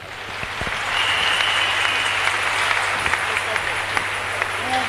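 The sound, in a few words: audience applause, hand clapping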